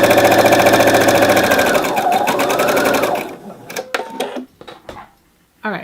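A sewing machine runs steadily and loudly for about three seconds while stitching a French dart, then stops, followed by scattered handling clicks and a short final burst of motor whir.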